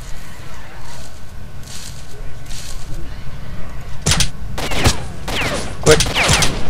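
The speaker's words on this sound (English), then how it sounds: "Quit freaking shooting at me." Gunfire in the shooter game STALKER: Shadow of Chernobyl, several sharp loud shots cracking in the second half over quieter ambient game noise, with a voice talking earlier.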